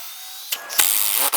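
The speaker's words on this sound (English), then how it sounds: "Drive that in, pre-drill the next." A power drill drives screws into scrap wood in short bursts, with a quiet pause first and then a sustained whirring run that stops abruptly, close and fairly loud.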